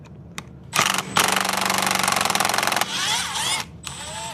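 A power tool whirs in several loud bursts, with a rising and falling pitch, as it backs heavily Loctited 3mm screws out of a DJI T100 agricultural drone arm, the tool running steadily up close.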